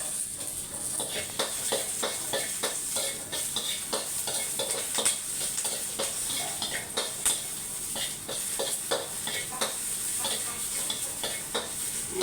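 Dry chilies roasting and being stirred in a pan before pounding for a fish dip, with steady sizzling hiss and frequent scraping stirs throughout, close and continuous with no voices.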